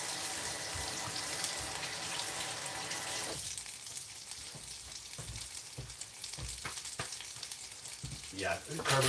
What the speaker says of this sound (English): Let's get some bacon on there.